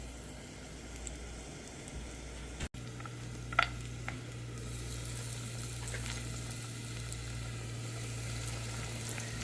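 Chicken gizzards frying in hot oil, a quiet steady sizzle with a sharp clunk and a brief clatter early on, then continuous low crackling.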